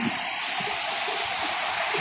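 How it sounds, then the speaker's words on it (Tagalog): Big waves crash on a beach where fishing boats sit near the waterline, a loud continuous rushing roar of surf and churning water filling the whole stretch. "ganyang kalalakas na alon, delikado talaga yan."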